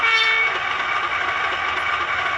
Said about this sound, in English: F11 is air horn short.